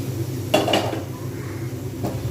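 A lid is lifted off a pan of prawn and potato mash: one clattering metal clunk with a brief rattle, a fainter knock after, over a low steady hum.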